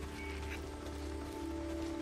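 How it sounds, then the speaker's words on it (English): Steady, even rain hiss in the video game Days Gone, a continuous wash of falling rain with no voices, holding at a moderate level throughout. "It's either snowing or it's raining, so you're not wrong there."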